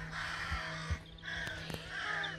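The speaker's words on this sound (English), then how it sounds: "Anybody knows how to get rid of crows?" Several crows caw near a house roof during emergency roof and tile repair work, harsh repeated calls in short bursts with gaps between, fairly close over a steady low background hum.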